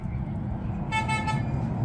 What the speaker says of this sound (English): he's honking at us.